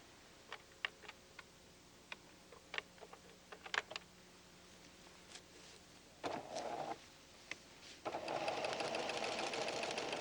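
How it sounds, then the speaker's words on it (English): Pfaff Creative 7550 sewing machine straight stitching across cutouts onto stabilizer, with scattered ticking clicks at first, then short whirring runs of stitching that grow into a sustained, louder hum toward the end. "Change to a straight stitch and stitch across the cutouts right onto the stabilizer."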